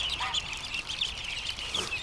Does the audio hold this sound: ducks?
yes